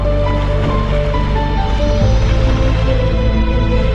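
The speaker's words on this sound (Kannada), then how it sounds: "ಸೊ ನಾನಿವಾಗ ನವಲಿಯ ಹೊಳೆ ಹತ್ರ ಇದ್ದೀನಿ. ಸೊ ಇದಿಷ್ಟು ಕಂಪ್ಲೀಟ್ ಹೊಳೆ" River water flows steadily at Navali, a continuous dense rushing wash heard up close, with no voices.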